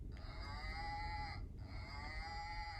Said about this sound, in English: Look, it's the cow.